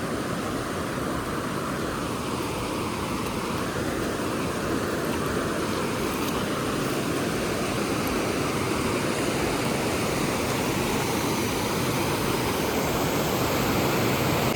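Steady, dense rush of water flowing over Vadattupara waterfall, a continuous loud broadband roar with no pauses, heard close and alone without any talking.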